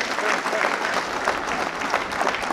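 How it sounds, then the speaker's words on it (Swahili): Audience applause for a pastor being introduced at a Kenyan gathering, a dense, steady wash of many hands clapping for the whole stretch with a faint voice or two mixed in. "Tumpigie makofi."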